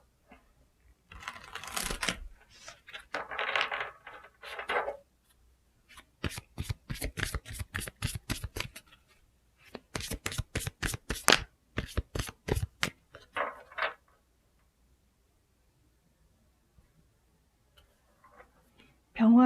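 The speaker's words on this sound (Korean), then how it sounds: "여러분을 위한 조언 카드 좀 뽑아 보겠습니다." Paper tarot-style advice cards being shuffled and drawn by hand, a riffling, ticking flutter in several short runs with quiet gaps, close and soft, with no talk over it.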